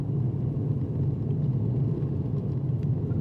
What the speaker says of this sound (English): We're in a car, there's noise